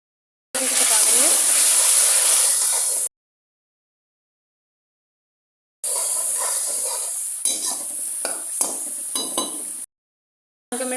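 Masala of coriander, salt, red chili and dried fenugreek sizzling in a pan, a loud bright hiss in two bursts separated by silence, with some stirring and utensil clatter in the second burst.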